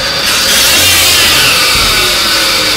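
A Kia Cerato engine revs up loudly and holds at a high, steady roar, close by, with no talking; the car has an automatic transmission fault.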